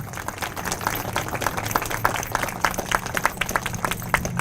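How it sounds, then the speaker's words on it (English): A small crowd at a Corpus Christi ambulance bus key presentation ceremony applauds the two captains with steady, moderately distant clapping for several seconds, without talking over it. "Let's give them a round of applause, everybody."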